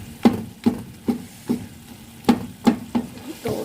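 Dried plums (aloo bukhara) and tamarind roasting in a hot pan for chana pulao, giving a run of sharp sizzling crackles and stirring scrapes that come in a steady, near rhythm with no talk.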